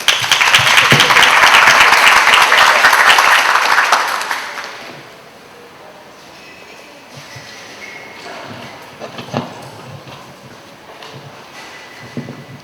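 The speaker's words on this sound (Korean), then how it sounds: "큰 박수로 맞이해 주시기 바랍니다" At a book talk with author Matteo B. Bianchi, an audience applauds loudly for about four seconds to welcome an Italian professor to the front, then the clapping fades into a quiet room with scattered small noises.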